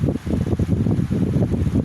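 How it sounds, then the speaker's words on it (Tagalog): Electric fan with a capacitor running at its third, fast speed setting, giving a steady loud whirring hum with low rumble and slight wobbling pulses, close by with no talk. "At umaandar na ang electric fan."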